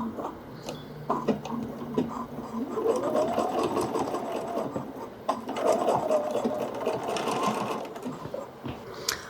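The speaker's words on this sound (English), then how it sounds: "I've just sewn this little section of the sewing machine." A domestic sewing machine stitches a short quarter-inch seam on a garment, its needle whirring in a steady close rattle that runs almost without a break, with faint background noise.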